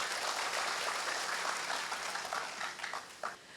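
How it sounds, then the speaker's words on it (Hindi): Audience applause at a district event in Uttar Pradesh, a dense, sustained burst of clapping from a crowd that gradually thins and trails off into a few scattered claps near the end. "एक बार ज़रा ज़ोरदार तालियां बजा दें"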